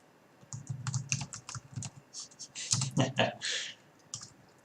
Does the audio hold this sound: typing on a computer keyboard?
yes